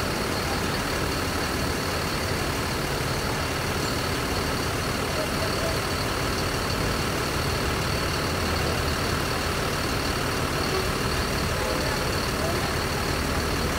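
A Sugeng Rahayu bus idles nearby, its engine giving a steady, unbroken rumble with a broad hiss layered on top for the whole stretch.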